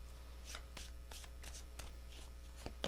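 Tarot cards being shuffled by hand, a series of quiet, quick riffles and soft slaps spaced irregularly, close up and faint with no talking.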